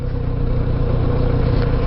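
A Kawasaki Z900RS motorcycle engine idles steadily while the bike rolls along on the road, a continuous low burbling hum held close and even throughout.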